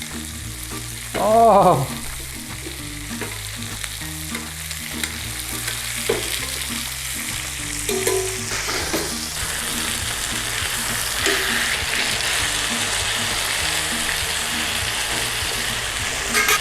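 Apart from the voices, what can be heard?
pork chops frying in garlic butter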